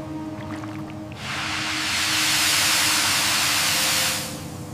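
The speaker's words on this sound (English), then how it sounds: "This steaming process, called degumming, softens the sericin, the natural gum holding the filament together." Steam hisses during silk cocoon degumming in a factory, a loud broad rush that surges in, holds steady for about three seconds and then cuts off over a low machine hum.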